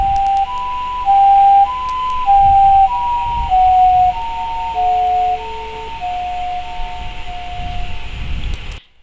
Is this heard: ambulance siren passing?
yes